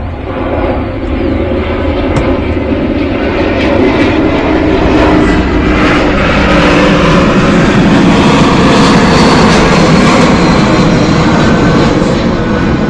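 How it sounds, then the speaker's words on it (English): Airplanes flying in overhead produce a loud, continuous roar of jet engines that swells gradually and stays close, filling the whole stretch with no talking. "the planes are coming in fast today"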